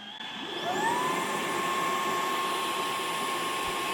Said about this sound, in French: Démarrage de l'auto-nettoyage. Là, il y a de l'eau qui va arriver sur la brosse.